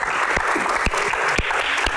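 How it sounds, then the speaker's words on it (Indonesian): An audience at a Q&A event applauds as a box is opened, a steady wash of clapping with a few sharp, distinct claps popping out close by at irregular moments. "Tepuk tangan untuk box malam."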